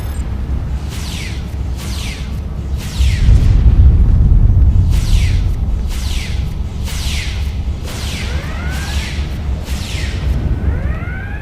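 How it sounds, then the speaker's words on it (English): Repeated energy weapon fire against the Borg in the Star Trek Online video game, a regular series of bright zapping bursts over a deep rumbling explosion and steady background hum. "here I am just shooting my way through this Borg"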